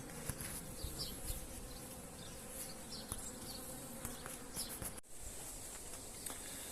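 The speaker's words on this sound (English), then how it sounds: "I think this hive is just being robbed for any resources that's in there." Bees swarming around a hive on a Portuguese farm while it is robbed, a dense continuous buzzing hum with individual insects passing close, steady and faint throughout.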